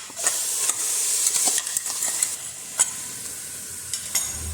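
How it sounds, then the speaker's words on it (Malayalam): Masala paste and onions sizzle and fry in a pan for a traditional Kerala beef curry, a steady close hiss broken by frequent scraping stirs of a spoon against the pan. "അപ്പോൾ ഇതിൻ്റെ പച്ചമണം മാറുന്നത് വരെ നമുക്കൊന്ന് വഴറ്റിയെടുക്കാം."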